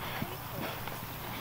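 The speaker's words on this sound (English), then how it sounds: "That is the horse that Tammy is riding." Horse hooves clip-clop on the field during a polocrosse play day game in Minnesota, faint and irregular beneath steady crowd noise and a commentator speaking.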